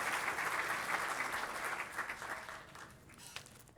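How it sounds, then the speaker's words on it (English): An audience at a city of Lakewood celebration claps for new city employees, a soft, distant, steady patter that gradually thins and fades toward the end. "let's give one more round of applause for our brand new employees here at the City of Lakewood."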